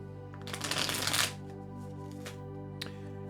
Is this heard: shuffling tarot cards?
yes